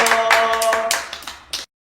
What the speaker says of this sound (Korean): 우리 다시 한번 생일 맞은 친구와 선생님들에게 박수로